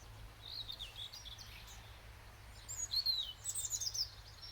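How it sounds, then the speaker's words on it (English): Distant birds sing and chirp in short thin phrases over a low steady hum of background noise, faint throughout. "I'm rather hoping you might be able to hear the birds singing in the background."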